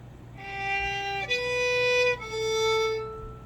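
Three sustained quarter notes bowed on a violin, G then B then A, each held clearly and played alone at a moderate, gentle level with short breaks between bow strokes.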